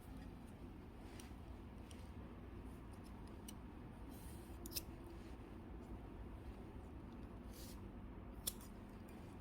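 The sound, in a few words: scissors cutting macrame cord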